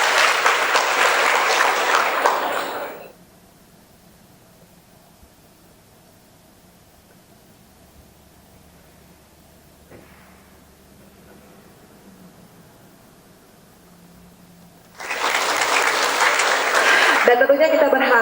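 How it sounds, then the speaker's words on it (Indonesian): An audience at a women's creative showcase in Aceh applauds in two bursts: a loud round of clapping fades out, a long near-silent pause follows, then a second equally strong round of applause starts up. "Boleh kami minta tepuk tangannya sekali lagi?"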